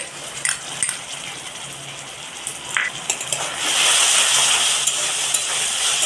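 Lightly fried onions sizzle in a pan with a few spoon clicks, then the hiss swells louder and stays steady as ginger garlic paste goes in.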